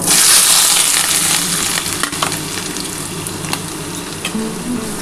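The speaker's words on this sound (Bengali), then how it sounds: "আমি আলু, পেঁয়াজ আর রসুনটা একসাথে দিয়ে দিলাম" Potato, onion and garlic fry together in hot oil, a loud, close, continuous sizzle with occasional light stirring clicks and scrapes throughout.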